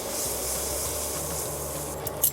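Three cloves of minced garlic, then ginger, gently frying in oil in a pan over medium heat: a steady, close, soft hiss of sizzling that runs throughout, with a low hum beneath and a couple of small knocks near the end.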